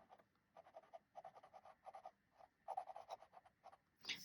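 A fountain pen nib scratches across paper in quick, faint strokes, a rhythmic series of short rasping bursts with small pauses between them, ending in a slightly louder scrape.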